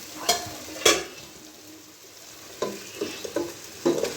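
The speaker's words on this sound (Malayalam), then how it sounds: "നമുക്കിനി ചേർത്ത് വെച്ചിട്ടുള്ള ചിക്കൻ പീസ് അങ്ങോട്ടേക്ക് ചേർക്കാം" Chicken pieces going into a pan of thick chicken curry gravy, stirred with a spoon: soft sizzling throughout with several scraping, clattering stir strokes at irregular intervals, close up and without talk.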